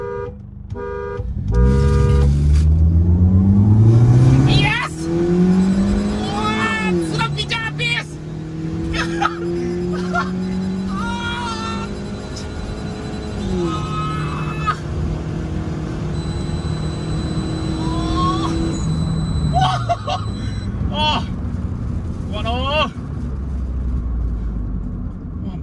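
A Toyota Camry 2.2 with a bolt-on turbo accelerates hard in a drag race, engine rising through several gears with clear shift drops, heard from inside the car, with a voice speaking briefly and a faint tone beeping at times.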